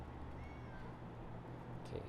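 A short synthesized meow from the Sacred Cat card being played in MTG Arena, a single faint rising cat cry over steady background game music.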